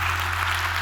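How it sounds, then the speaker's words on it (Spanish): Brief burst of dense audience applause at an annual investment strategy conference, steady and loud throughout with a low electrical hum beneath it. "Un aplauso para este vídeo que ha sufrido mucho"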